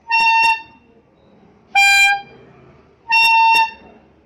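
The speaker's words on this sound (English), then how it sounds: "we are going to demonstrate this horn that makes the sound when you squeeze and also when you release." A brass dual-tone horn with a two-tone reed, sounded by squeezing and releasing its rubber bulb, gives three loud, close honks of about half a second each, separated by short pauses.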